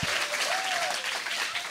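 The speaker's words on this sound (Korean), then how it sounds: "여러분 감사의 박수 한번 보여주세요" Audience applause at a live talk show, a dense steady wash of clapping that fills the whole stretch at moderate level, with a faint whistle-like tone briefly rising over it and no voices.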